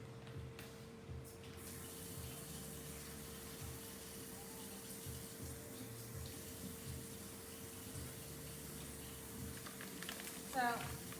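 Tap water runs steadily into a sink while ground meat is rinsed under it for a budget lasagna, a continuous even gush with a faint hum beneath.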